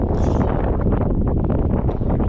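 Strong wind buffets a microphone on a fishing boat on Tampa Bay, a loud, continuous low roar and rumble over the whole short stretch.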